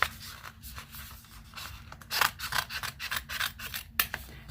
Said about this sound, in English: I'm just gonna fussy cut around it is what I'm gonna do